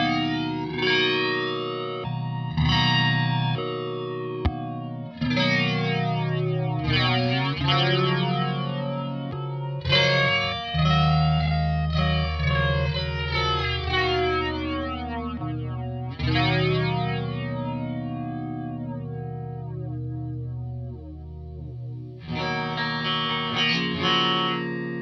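Electric guitar through a PastFx Hot for Flanger, a modified MXR flanger, with loud sustained chords swept by deep, repeating jet-like whooshes rising and falling for a long stretch, heard alone without talk.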